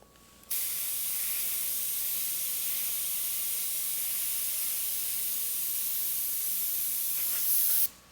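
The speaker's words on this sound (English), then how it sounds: "Again, very lightly spraying color onto the surface." An airbrush lightly sprays color onto a surface while painting fire artwork, giving a steady, close, even hiss that starts abruptly, holds for several seconds and cuts off cleanly.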